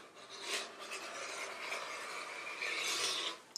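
A rotary cutter runs along a ruler through stretchy sweatshirt fabric, making a quiet, steady rasping slide that swells in two longer strokes, close up and alone.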